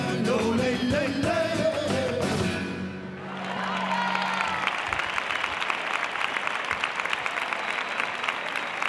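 Audience applause and cheering for a flamenco guitarist at a bulería festival. A crowd claps steadily after guitar and singing fade out in the opening seconds, and the applause carries on through the rest.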